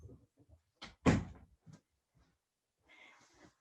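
A door opens and closes to let a dog out: a few knocks and bumps, then a sharp bang of the door shutting, followed by a faint rustle.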